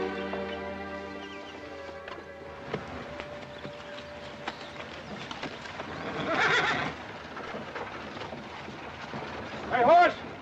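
A horse whinnies at the start, followed by faint hoof clip-clops and scattered outdoor noise, with a louder shuffle near the end; no talking.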